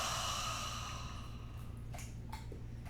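A single slow exhale through an open mouth after a held breath during a power yoga flow, soft and breathy, fading gradually, with a few faint rustles near the end.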